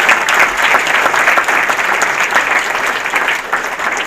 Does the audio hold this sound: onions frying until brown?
no